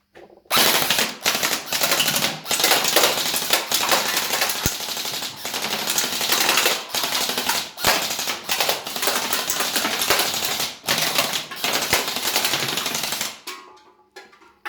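A Well M401 blaster fed from a drum magazine and shooting at 360 FPS fires in a long, fast burst of sharp mechanical clacks. The stream is loud and steady, with a few short breaks, and stops near the end.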